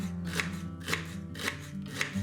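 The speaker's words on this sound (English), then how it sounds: "After, we cut the stems in thin slices." A knife chops rhubarb stems into thin slices, four evenly spaced crisp cuts landing on a board, close and clear with a faint background hum.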